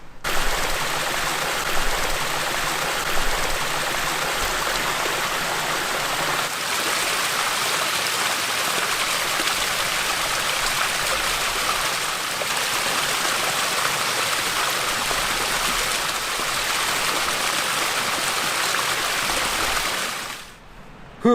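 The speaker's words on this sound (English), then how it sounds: "there's a kind of like a waterfall coming down the rock face" A small waterfall pours down a rock face in the Superstition Wilderness, a steady, broad rushing of water that holds evenly for about twenty seconds and then cuts off.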